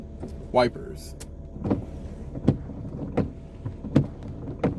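Windshield wipers on a 1994 Jeep Cherokee with high mileage sweep back and forth, giving a regular series of short scraping thumps about every three-quarters of a second inside the cab, with a brief motor whine at the start.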